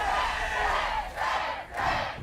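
A large crowd at a VALORANT esports match chants a player's name in a steady rhythmic roar, loud and rising and falling with each repetition.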